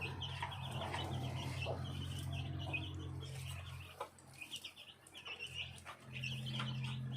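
Black chickens raised on a small farm in Phetchabun, Thailand, cluck softly and intermittently nearby, with faint chirps of other birds in the background.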